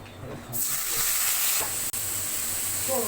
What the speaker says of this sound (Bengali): তেল গরম হয়ে গেছে এখন তেলের উপর কিছুটা গরম মশলা দিয়ে দিব